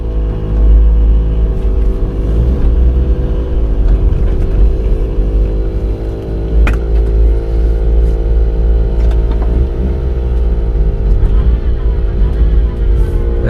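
A mini truck's engine idles with a steady low rumble and then drives through deep snow, its motor note rising and falling under occasional voices.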